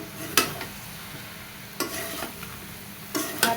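Vegetable curry being sautéed uncovered in a pan, a low steady sizzle broken by three sharp scrapes and stirs of a spoon against the pan, close and alone.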